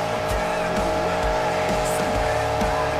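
A monster truck spins donuts during a freestyle event at Chesterfield, Missouri in BeamNG.drive, its engine droning loudly with repeated tire squeals and skids as it whips around.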